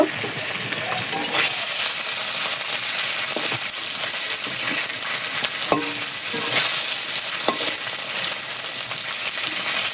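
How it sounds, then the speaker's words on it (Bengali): Paneer pieces frying in a home kitchen pan give a steady, close sizzle with scraping stir sounds and a few sharp clinks of the utensil against the pan. "পনিরটা ভাজতেছি"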